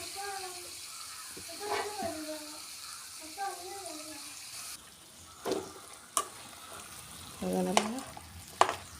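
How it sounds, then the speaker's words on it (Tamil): Mashed tapioca stirred in a frying pan: soft sizzling and faint scraping of a spoon under a woman's speech, fairly quiet and close. "கிளறி விடணும்."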